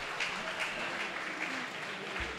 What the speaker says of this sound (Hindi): ज़ोरदार तालियाँ आपकी तरफ से हो जाएं